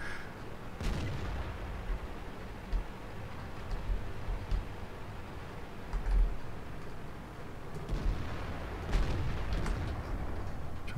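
Tank cannon fire in World of Tanks, with several booming shots and explosions spread across a dense, rumbling battle din, medium loud and continuous, no voices.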